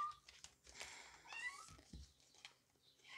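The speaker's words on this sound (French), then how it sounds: "On va attendre un petit chat miauler. On a un petit chaton." Small kitten meowing indoors: a few thin, high, rising mews spread across the moment, close but faint, with quiet household noise between the cries.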